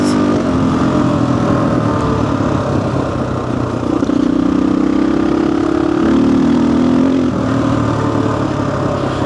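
Vintage dirt bike engine out on a trail in the Caucasus, a loud, constant low drone with a steady rumble and a slight rise in pitch midway, with wind-like noise throughout.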